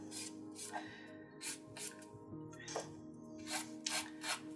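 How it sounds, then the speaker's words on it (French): A 180-grit nail file rasping along a fingernail near the cuticle in short, repeated strokes, each a soft, close, dry scratch with brief pauses between, no talking. "comme on s'approche des cuticules, je vais utiliser une lime 180 juste pour cette partie là."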